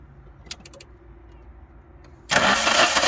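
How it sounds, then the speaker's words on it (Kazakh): Toyota Carina engine turning over on its starter motor, a few faint clicks over a quiet hum, then a sudden loud, sustained churning crank close up for the final second. "Тағы стартер қойып көрші қане."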